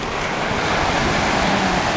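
Ocean waves at high tide roll onto Little Beach on Maui in a steady, close surf roar, with some wind noise and no voices.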